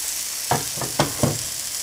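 A veggie omelet frying in a pan, a soft steady sizzle broken by three quick scraping stirs of a utensil against the pan, close and without talk.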